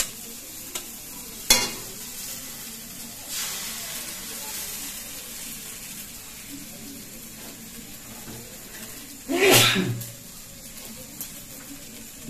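Beaten egg sizzles softly in a pan during pasta cooking, with quiet scraping stirs throughout and a couple of louder bursts of stirring, one early and one toward the end.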